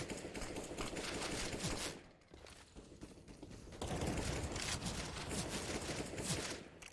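Counter-Strike gunfire on the Inferno map during a competitive match, faint rapid shots and mechanical clatter forming a steady busy din, dipping briefly near the two-second mark before picking back up.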